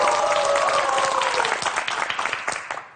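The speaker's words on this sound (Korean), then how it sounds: "박수 부탁드립니다" Audience applause with a mix of clapping hands. A brief burst starts strong, with a voice overlapping at the start, then thins to scattered claps and fades out within seconds.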